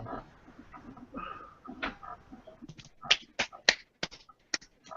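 A person applauds in the background during a tabletop role-playing game, about eight sharp, scattered claps of moderate loudness following a stretch of low murmured talk.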